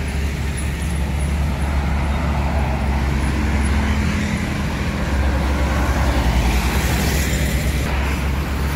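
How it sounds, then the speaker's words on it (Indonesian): Rosalia Indah cargo bus passing on an Indonesian road, a steady loud low engine rumble with continuous traffic and road noise throughout, no voices. "ini ada bus Rosalia Indah, kayaknya jurusan Bogor atau Cikarang"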